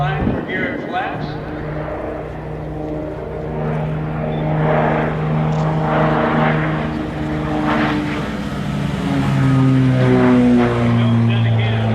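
A propeller airplane flies past at the Oshkosh EAA airshow with its landing gear down, its engine droning loud and rising as it nears, while a commentator talks over it.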